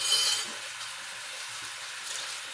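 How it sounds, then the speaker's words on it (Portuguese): Leftover meat reheats in a pan with a soft, steady sizzle and frying crackle, brighter at the start and then quieter. "Esquentando a minha carne para mim almoçar"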